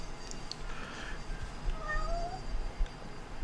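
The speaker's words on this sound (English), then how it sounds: "Who's meowing?" A cat meows a few times indoors at moderate distance, its drawn-out cries rising and falling over a low background hum, with no talking.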